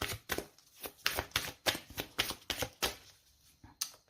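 Gaia oracle cards being handled and drawn: a rapid series of close, crisp card flicks and shuffling snaps in an uneven rhythm, alone with no talk.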